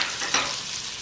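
Tomatoes and green chillies sizzle and fry in a pan, a steady hissing crackle with a brief stirring scrape, close and alone.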